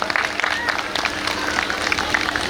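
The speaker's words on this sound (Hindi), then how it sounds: "बिल्कुल जोरदार तालियां होनी चाहिए।" An audience at a karate performance claps loudly, a dense, steady patter of many hands throughout with some crowd noise and voices mixed in.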